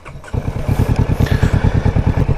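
A Kawasaki Vulcan S 650 motorcycle pulls away in gear, its engine rising from quiet into a steady, rhythmic low pulsing that stays loud and close throughout.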